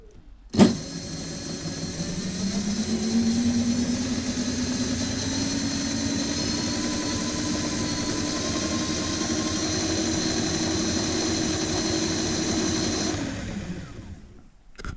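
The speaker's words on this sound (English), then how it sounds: "And this is the rear motor." A 350-watt rear hub motor on a DIY dual-motor electric scooter runs steadily, a smooth, continuous electric whine with a faint hum that starts with a click and holds for about twelve seconds before cutting off.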